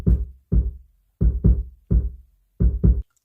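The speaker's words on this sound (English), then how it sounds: "Since this is an 808, we're going to pump up the bass." Pitched-down 808 kick drum built from a sample of someone jumping on the floor, with the bass boosted: seven deep, booming thumps in a loose rhythm, each with a short decaying tail, close and alone.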